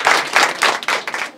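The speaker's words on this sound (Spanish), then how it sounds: "Un fuerte aplauso." Applause at a birthday celebration for a girl's eighteenth, brisk clapping from a crowd in several bursts with short dips between them, no voices over it.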